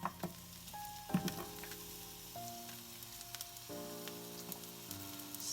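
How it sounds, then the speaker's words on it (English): Chopped onions hit heated oil in a pan set for cooking potatoes, giving a faint, steady sizzle with occasional spits and stirring clinks over a quiet, soft background tone. "I'm going to add the onions to the pan where the potatoes are going to be cooked"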